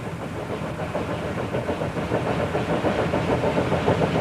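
An Alco-built Mikado steam locomotive, No. 40, crosses a bridge over the Illinois River: a dense, steady rumble of rolling wheels with rhythmic clatter, close and continuous throughout, with no voices.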